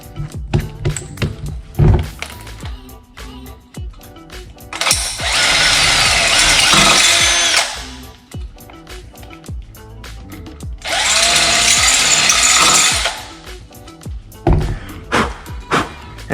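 A power drill bores out the cable stops on a soft aluminum mountain bike frame, with two long, loud, steady drilling runs of several seconds each, separated by clattering handling and short bursts of the motor.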